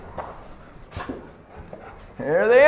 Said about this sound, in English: There they are, the mud dogs.